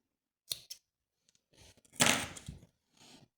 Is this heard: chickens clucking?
no